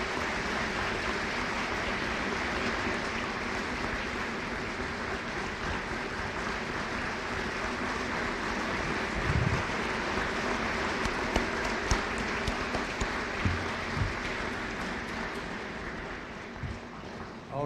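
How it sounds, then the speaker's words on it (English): Steady audience applause rings through a room at a Veterans Day program, even clapping that holds for many seconds at moderate level, with a few louder claps and faint murmurs near the end. "So give us a big round of applause for Al."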